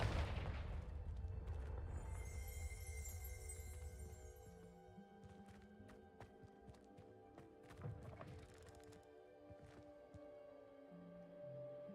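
A Confringo fire spell in Hogwarts Legacy lands with a deep, booming blast, followed by a rumbling decay and scattered crackling, thuds and debris knocks, all without talk.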